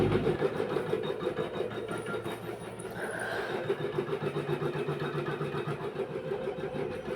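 A sewing machine runs steadily while stitching piping onto a blouse, the whirring motor and needle mechanism churning continuously and evenly throughout, with no voices.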